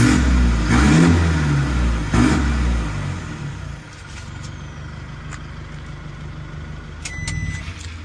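A 2023 Isuzu pickup engine revving, a few loud throaty bursts near the start that then settle into a lower steady idle, heard alone without talk.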